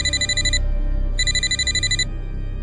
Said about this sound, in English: That's when my phone rang again.